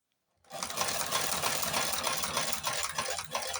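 A Chinese cobbler's sewing machine runs steadily after a brief silent start, its fast mechanical whir and needle chatter loud and close, continuing without pause.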